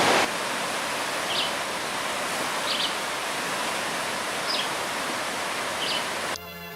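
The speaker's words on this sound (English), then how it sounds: "The rain's coming down" Steady broadband hiss of heavy rain falling during a hike in the Panama highlands near a swelling river and the Bermejo Waterfall trailhead, constant and enveloping, with a few faint high chirps scattered through and a brief rustle at the end.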